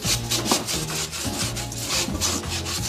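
A rolled-up ball is scraped around the inside of a kettle grill, giving a steady, loud, rough rubbing and scratching with repeated strokes and no talk.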